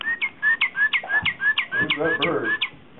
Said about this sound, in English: Who's that bird? That's loud.